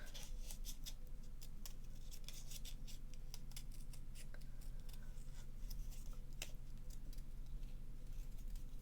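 Scissors snip around small paper card pieces in quick, close, quiet cuts, crisp clicks scattered irregularly over faint low household hum.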